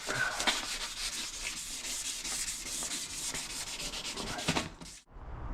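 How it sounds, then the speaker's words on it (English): A car body panel on a Vauxhall Omega V6 estate being wet-sanded by hand with 1200 grit sandpaper, a close, continuous rhythmic rubbing and scraping that stops abruptly near the end, with no speech. "I've now got a bit of 1200 grit, and I'm going to wet sand it."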